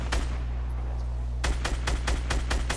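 Loud video-game gunfire in Fortnite: a single sharp report, then a rapid string of about eight close, punchy shots in quick succession over a constant low rumble.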